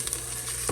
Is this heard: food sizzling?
yes